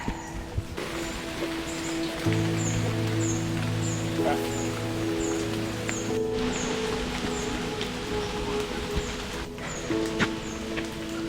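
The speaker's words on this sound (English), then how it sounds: "it started to rain, so we're going to get pretty wet" Steady rain patters on leaves and ground along a forest trail in Malaysia's highlands, a constant hiss with scattered drips, while high bird calls chirp intermittently in the background.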